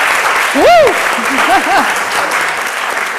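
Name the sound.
audience clapping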